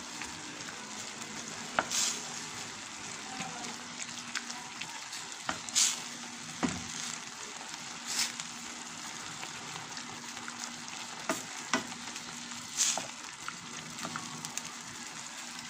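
Shredded cabbage fries in a pan with cooked chicken and pork for pancit miki, giving a soft continuous sizzle broken by repeated scraping stirs and occasional clinks of the utensil.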